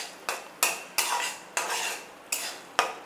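A spoon scrapes rhythmically around a pan while chili powder and coriander powder are stirred into softened tomato for a mushroom curry, about seven clear strokes evenly spaced over a faint simmering sizzle, with no talking.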